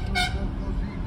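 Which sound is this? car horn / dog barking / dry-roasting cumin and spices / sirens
car horn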